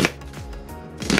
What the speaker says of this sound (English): got a couple of onions I'm gonna roughly chop